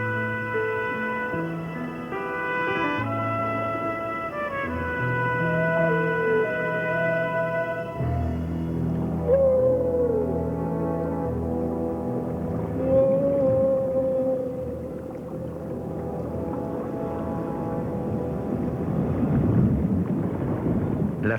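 Humpback whales vocalize underwater at Silver Bank, a reef-ringed winter gathering site, with long tonal moans and rising, wavering whoops that carry over a continuous low ocean rumble for the whole stretch.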